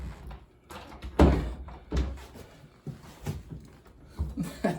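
A hollow-core interior door fitted with a cat door bumps and thuds a few times amid handling noises, with one solid knock standing out, close by and fairly quiet.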